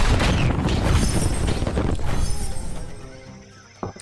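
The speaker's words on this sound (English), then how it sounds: "Explosion!" A big explosion in the video game Rise of the Third Power: a loud, deep boom that rumbles and slowly fades over a few seconds, with a small sharp pop near the end.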